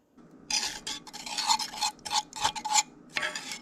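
Bread dough is mixed by hand with canola oil in a bowl, giving close, rhythmic squishing and rubbing strokes in uneven bursts. Short pauses fall between the strokes, and no one speaks.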